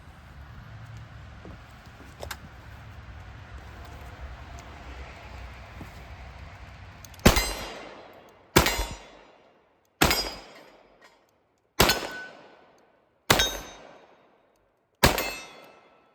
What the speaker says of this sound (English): We got a couple of Colt Anacondas here today, and we're going to shoot them.